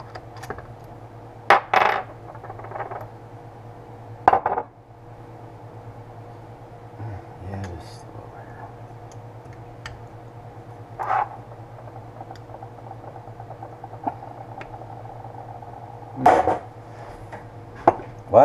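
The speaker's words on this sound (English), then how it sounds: "Using my 14 millimeter Kmart wrench." A 14 mm Kmart wrench working on the brakes of a 1980 Yamaha XS motorcycle, a few sharp metallic clinks and taps spaced apart over a low steady hum, close and fairly quiet.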